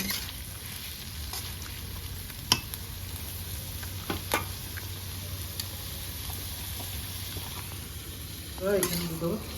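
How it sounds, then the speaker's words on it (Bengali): Onions fry in a pan with a steady, soft sizzle throughout, broken by a few light clicks and stirring scrapes, and a voice speaks briefly near the end. "পেঁয়াজটা একটু লাল লাল করে ভাজি।"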